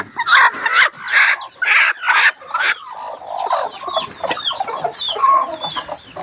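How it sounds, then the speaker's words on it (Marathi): Hens cluck loudly in bursts near by, joined by high thin peeping of many chicks that continues after the clucking fades. "हे बघा, कोंबडीचे पिल्लं किती आहेत आमच्याकडे, भरपूर पिल्लं आहेत."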